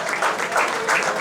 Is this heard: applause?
yes